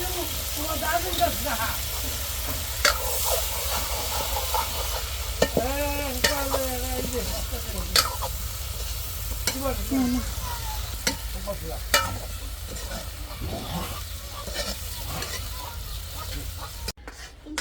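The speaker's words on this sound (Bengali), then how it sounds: "এখন হলো বেগুনটা দিয়ে দেওয়া হইতেছে বেগুন আর আলু" Eggplant and potato sizzle in a hot pan as a utensil scrapes and stirs them, producing a steady frying hiss punctuated by repeated stirring clatters, with someone talking over it.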